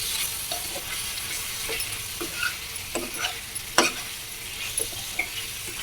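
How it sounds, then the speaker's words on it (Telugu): A spoon scrapes and stirs through chicken curry with masala in a pan, village style, with intermittent clacks and scrapes over a low background sizzle, close up and without speech. "ఇవన్నీ ఒక్కసారి బాగా మిక్స్ చేసేసుకుందాం."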